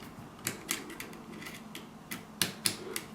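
Switches on a single servo control board are pushed into place, giving a series of quiet, sharp mechanical clicks spaced irregularly, with a couple of louder snaps toward the end.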